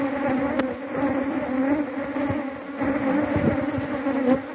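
Honey bees buzz loudly and continuously while being moved from a bait box into a standard hive box, a dense steady drone with no talk over it.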